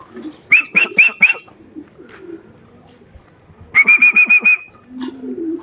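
Pigeon sounds at a loft, two bursts of rapid whistling wing-claps or calls around a first-returning racing pigeon from an Antipolo training toss, with faint background noise between.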